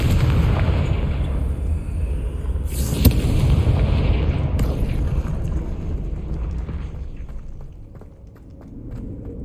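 A Confringo fire-blast spell in Hogwarts Legacy erupts as a heavy, rumbling boom with a sharp crack near the middle, loud and close, fading into a lower roar with faint crackles.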